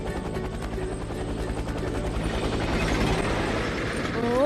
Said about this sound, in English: Coco, I need you to change into a helicopter to put this tree in the hole.